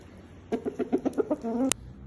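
A rooster clucks close by in a quick run of about seven clucks, finishing with a longer, drawn-out call.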